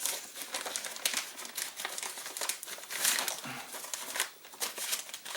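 Wax rust-protection paper crinkling and rustling as it is wrapped around a cleaned and oiled gun, continuous close crackling with uneven bursts throughout, no voices.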